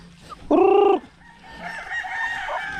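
Native chickens on a farm with a rooster giving one loud, close crow, followed by softer clucking and distant calls from the flock.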